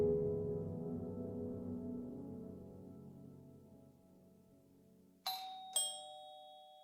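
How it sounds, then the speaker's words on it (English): A house doorbell rings at dusk with two clear, bright chime strikes close together near the end, following a fading low musical drone. "doorbell rang for the first time that night"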